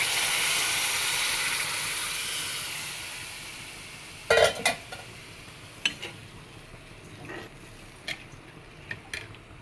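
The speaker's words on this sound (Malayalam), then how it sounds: "ഇത് അതിലോട്ട് നമുക്ക് ഈ ജ്യൂസ് ഒഴിച്ചു കൊടുക്കാം." Pineapple juice goes into roasted semolina in a pan, giving a broad hiss that slowly fades, then a few sharp clinks and taps of a utensil against the pan, with quiet between them.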